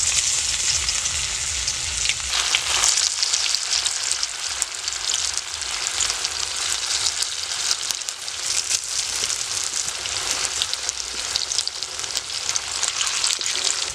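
Pieces of green pea (matarshuti) preparation fry lightly in a pan of oil, producing a dense, even, crackling sizzle that holds steady throughout.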